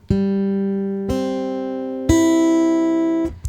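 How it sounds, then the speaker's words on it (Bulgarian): Three plucked guitar notes on the third, second and first strings, each struck about a second apart and left ringing, clear and close with no talking. "Това бяха трета, втора и първа струна."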